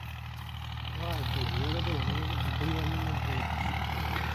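A tractor engine runs steadily nearby, a continuous low rumbling drone that holds level throughout, with faint rising and falling tones over it.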